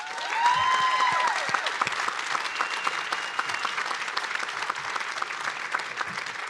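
A commencement audience applauds the graduates' parents, a dense wash of clapping that swells near the start with a few whoops and cheers, then settles into steady, sustained applause throughout.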